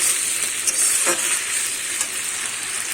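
Tomato and ginger-garlic paste fry in a pan for stuffed pointed gourd, a close, continuous sizzling hiss with a few soft clicks of stirring and no voices.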